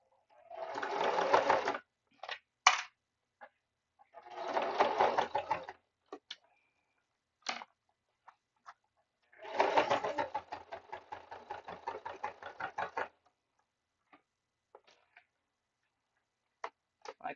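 A sewing machine runs in several bursts of rapid mechanical stitching, close by, separated by quiet pauses and small clicks.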